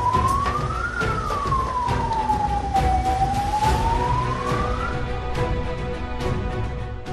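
An ambulance siren wails during a coast guard rescue drill near the India–Sri Lanka maritime border, one slow rising and falling sweep lasting several seconds over steady engine and outdoor noise.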